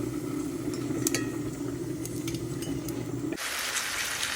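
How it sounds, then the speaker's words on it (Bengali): Papads fry in hot peanut oil with a constant dense sizzling hiss and a few faint clinks, the tone shifting abruptly to a brighter hiss near the end. "আর আমি কিন্তু আজ বাদাম তেল দিয়েই রান্না করছি এইভাবেই সব পাঁপড়গুলো আমি ভাজা করে নেবো"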